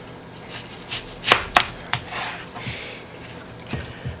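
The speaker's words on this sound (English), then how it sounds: "And we'll just chop this up as well." Several sharp knife chops on a cutting board while preparing stuffed pork cubed steak, irregular and close, a couple of loud strikes followed by lighter taps with quiet gaps.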